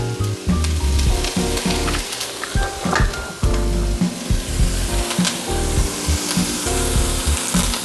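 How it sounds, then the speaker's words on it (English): Carrots, onions and celery fry loudly in a pot as a mirepoix for ham and bean soup, a dense continuous crackling sizzle with scraping stirs throughout. "you're going to want to cook your carrots and your onions and also your celery over here"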